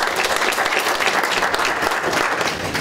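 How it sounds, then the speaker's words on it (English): An audience at a university stole presentation gives a sustained round of applause, a dense, even clatter of many hands that holds steady throughout, with no voices heard. "so we should round of applause"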